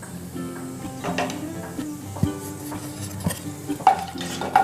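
Fennel seeds, cinnamon, cloves and a bay leaf fry in hot oil for a broccoli biryani. A soft, steady sizzle runs under repeated clinks and scrapes of a spoon stirring the pan.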